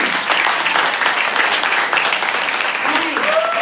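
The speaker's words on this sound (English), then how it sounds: "please give them one more warm round of applause" A crowd at a birthday celebration event gives a warm round of applause to honorees, a dense continuous wash of clapping at steady volume throughout, with faint voices mixed in near the end.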